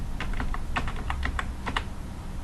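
A password is typed for a root password change on a computer keyboard: quick, irregular key taps in small clusters, close and fairly soft, over a steady background hum.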